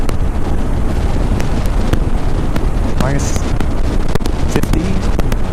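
Strong wind at about 120 kilometers an hour roaring across a microphone during a dark, cold commute, a loud constant buffeting rush with sharp gusting pops, and someone talking through it.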